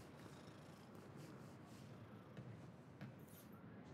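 A cat purrs in Marvel's Spider-Man: Miles Morales, a soft, steady low rumble running throughout at close range, with faint ambient game noise and no speech.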